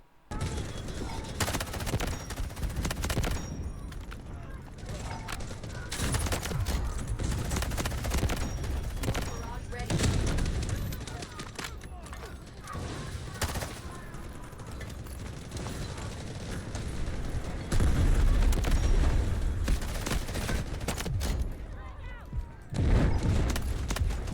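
An SG552 rifle firing in the shooter game Delta Force: loud, close bursts of rapid automatic fire repeat throughout, mixed with mechanical clatter and action noise.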